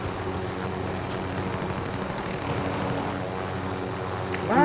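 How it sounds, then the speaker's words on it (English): Helicopter in the video game Call of Duty: Modern Warfare, a steady loud rotor and engine drone holding throughout and swelling near the end. "Why did it take so long for the helicopter to go down?"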